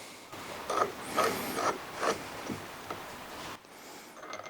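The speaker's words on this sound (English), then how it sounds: "Grease on the puller threads. Thread that in." Quiet metallic creaking and scraping as a greased puller is threaded onto an engine part of a Honda ATC 250R, in several short turning bursts close by with no talking.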